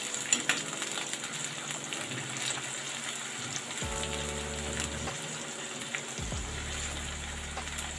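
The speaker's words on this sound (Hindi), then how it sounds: "मैं इसको थोड़ा सा फ्राई होने देती हूँ।" Okra and potatoes fry in a pan with a steady soft sizzle and crackle, a low continuous hiss with faint tonal hum from the kitchen in the background.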